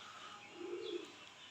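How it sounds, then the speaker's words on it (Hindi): A single soft, low coo from a Mian Nazir almari pigeon, one of a breeding pair kept for sale, brief and faint against quiet background hiss with no talking. "मियाँ नज़ीर साहब वाले अलमारी वाले कबूतर हैं"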